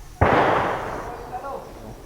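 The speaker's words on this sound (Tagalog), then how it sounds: "Naririnig pa namin ng mga putok nang magtungo kami doon." A single sharp gunshot cracks out during a military operation in Maguindanao, a loud close report with a long reverberant decay, followed by faint distant sounds in its tail.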